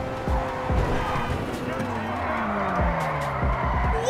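A car drifting in GTA V during a gang shootout, loud tire squeals sliding down in pitch over a steady engine roar, with sharp thumps from gunshots, all under a speaking voice.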